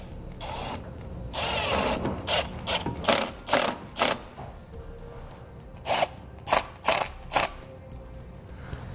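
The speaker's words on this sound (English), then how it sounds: "And then we'll tighten down our hose clamp." A hose clamp on a transmission cooler hose tightened with a ratcheting tool: a long stretch of coarse ratchet clicking, then distinct separate bursts of ratchet pulls with short gaps between, close and fairly loud.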